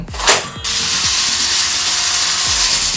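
A seven-colour toy light-up sword with a smoke effect is slid into its sheath. A sharp burst sets off its electronic sound effect, followed by a steady airy hiss of smoke with soft repeating low thuds underneath, close and fairly loud.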